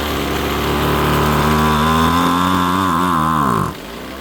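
A 2-cycle string trimmer engine running at half choke with a faulty idle, buzzing loudly and close as its pitch rises and wavers under throttle, then bogging down and dropping abruptly near the end.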